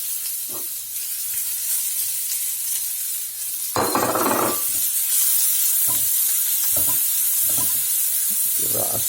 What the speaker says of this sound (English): Give that a stir with the onion.